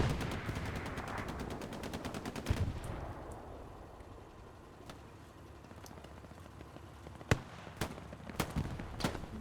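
Gunfire in the Hell Let Loose video game, a rapid machine-gun burst of sharp cracks at the start, then sporadic distant single shots spread across a quieter background.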